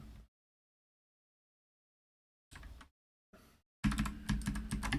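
Computer keyboard keys pressed in a short burst at the start, a couple of brief clusters, then a denser run of clicky typing near the end, separated by silence.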